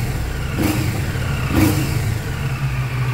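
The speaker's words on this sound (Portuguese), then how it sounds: "repara no ronco do motor." Two-cylinder motorcycle engine revving close by, a steady rough drone with two short throttle blips standing out over the running engine.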